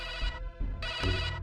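A mobile phone rings loudly nearby in two bright electronic bursts separated by a short gap, with no one speaking.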